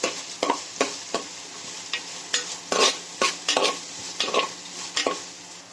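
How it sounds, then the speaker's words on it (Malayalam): Sliced onions fry in a pan while being stirred, sharp scraping strokes coming in irregular bursts over a soft sizzle, close and clear, no voices. "നമ്മൾ അതിന് വെച്ചിരിക്കുന്ന ഉള്ളി ആഡ് ചെയ്ത് കൊടുക്കാം ചെറുതായിട്ട് ഇളക്കി കൊടുക്കാം"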